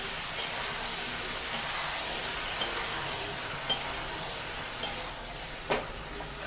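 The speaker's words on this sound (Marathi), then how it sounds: "ही भाजी आपल्याला हलवून घ्यायची आहे अगदी सोपी पद्धत तुम्हाला दाखवणार आहे भाजी छान हलवून घ्यायची" Eggplant vegetable dish stirred in a pan, giving a continuous soft sizzle with scraping stir strokes and a few sharper clacks of the spatula against the pan.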